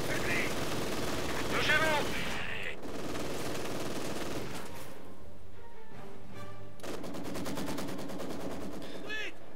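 Rapid gunfire from a Company of Heroes 2 battle in Crimea rattles in close bursts, machine-gun fusillades and sharp single shots overlapping, with voiced unit chatter heard between volleys.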